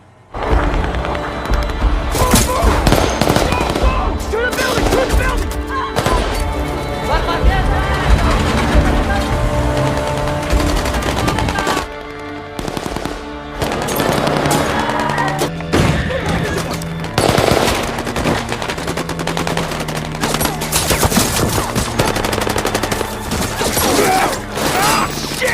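Gunfire in a battle scene from the film The Covenant, with dense, loud bursts of automatic fire and shots running almost nonstop over a rumbling war-film soundtrack, with voices mixed in.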